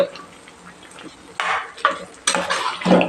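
Sugar being stirred into carrot halwa in a pan, giving bursts of scraping and clinking from a utensil against the pan between quieter stretches of faint sizzling, close and fairly soft.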